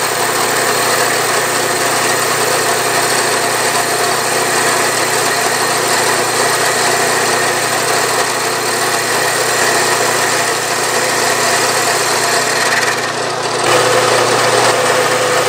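A metal lathe takes a 10 thousandths cut on a part for a horizontal steam engine, producing a continuous mechanical whir and buzzing motor drone that runs steadily with only a slight shift near the end, with no voices.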